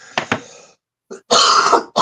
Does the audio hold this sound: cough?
yes